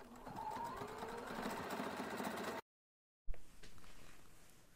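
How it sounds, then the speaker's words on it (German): A sewing machine stitches two layers of fabric together along the right side of a seam for a reversible bag, running in a steady close whir, falling briefly silent, then resuming more quietly. "Nun auf der rechten Seite von der Naht die beiden Stoffe aufeinander nähen."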